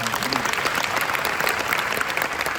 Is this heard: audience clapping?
yes